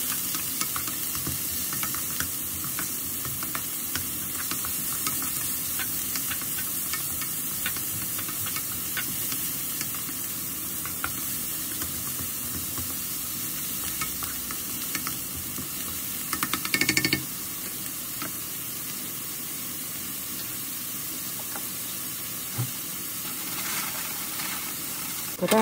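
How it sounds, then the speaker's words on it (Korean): Continuous sizzling and hiss of minced onion and pork stir-frying in a pan, with occasional stirring scrapes, steady and close, without talk. "다진 양파도 이렇게 넣고 볶아주세요."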